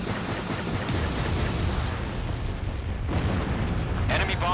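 An enemy bomber is shot down and explodes in the Ace Combat 7 flight game, heard as a sustained roaring rumble of blasts and jet noise with a bright crackling burst near the end.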